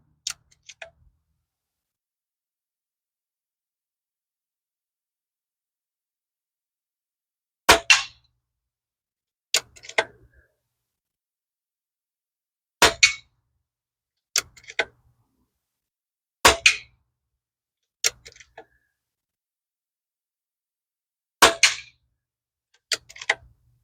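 Pinty pellet rifle shots striking a soda can, sharp isolated cracks with metallic pings spaced several seconds apart, about ten in a row, close and loud with silence between.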